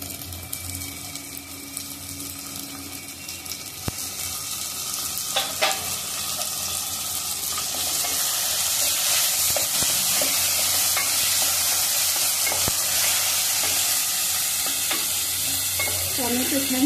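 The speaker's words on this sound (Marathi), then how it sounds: "टोमॅटो छान शिजले पाहिजे तोपर्यंत आपण फ्राय करूया" Two large tomatoes fry in a pan for a potato and spinach dish, giving a loud, continuous sizzle that swells into a dense, steady hiss while they are stirred, with occasional clicks and scrapes.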